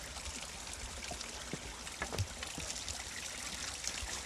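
Water trickles and splashes quietly from the Fuente del Rey, a stone fountain along an old Roman road, with soft, uneven droplets over a gentle, continuous flow.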